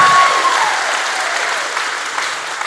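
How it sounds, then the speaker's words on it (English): Live podcast audience bursts into loud applause, dense clapping from a large crowd that peaks at the start and gradually tapers while staying strong to the end. "give us a round of applause if you've ever heard Do Go On"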